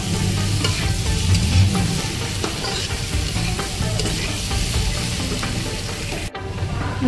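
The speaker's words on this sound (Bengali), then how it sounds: "ওলকপি। দিয়ে পেঁয়াজের সঙ্গে এটাকে মিনিট 5 মতো হালকা আঁচে ভেজে নেব।" Boiled kohlrabi fries with onions in a pan over low heat, a continuous crackling sizzle with stirring scrapes throughout, closely miked and ending in a sharp knock.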